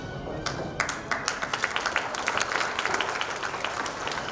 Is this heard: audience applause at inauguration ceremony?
yes